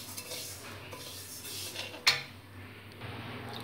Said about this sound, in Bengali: প্রথমে আমি মুগ ডালটা ভেজে নিচ্ছি, একটু লাল করে ভেজে নেব।